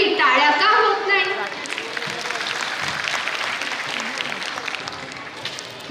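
An audience at a school's silver jubilee cultural festival applauds a dance performance, a broad wash of clapping rising after a voice on a microphone and continuing steadily, moderately distant and reverberant.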